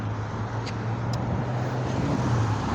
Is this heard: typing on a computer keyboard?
no